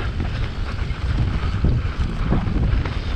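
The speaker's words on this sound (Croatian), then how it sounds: "malo me i vjetar i kiša jebe" Wind and rain buffeting during a mountain bike enduro ride, a loud, blustery low roar against the microphone with constant rustling, no speech.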